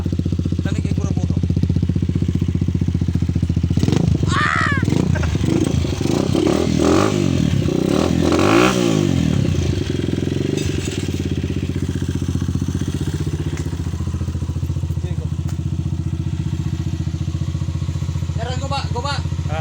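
A motorcycle engine idles loud and steady on a freshly installed carburetor, with a few sharp revs rising and falling midway; people talk over it.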